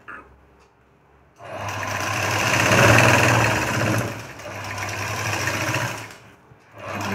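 Electric sewing machine stitching lining onto a puff sleeve, a close steady whirring hum that runs for several seconds with slight speed changes, stopping briefly before restarting.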